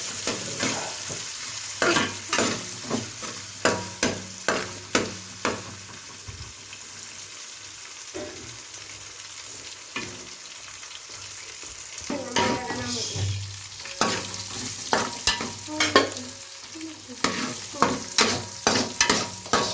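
Chicken curry masala frying and being stirred in a pan for homemade village-style chicken curry, steady sizzle broken by repeated sharp scraping stirs, close and alone with no talk.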